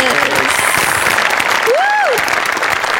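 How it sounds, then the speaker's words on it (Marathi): A talk show studio audience applauding, dense steady clapping from a crowd that fills the whole stretch, with a brief cheer or whoop rising above it. "आपण सगळे जोरदार टाळ्या वाजवूया"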